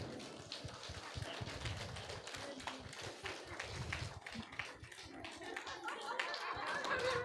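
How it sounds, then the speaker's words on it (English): A seated audience at a meditation workshop session claps for itself, a dense continuous patter of many hands in a large room, fairly faint and steady throughout. "Can we all clap for ourselves?"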